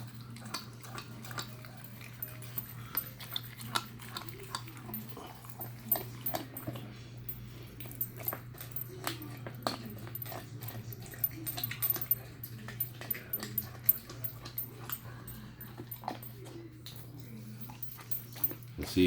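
A puppy gnaws on a raw chicken leg quarter, down to the drumstick portion, with scattered soft crunches and licking clicks over a low steady hum, plus a few faint whimpers.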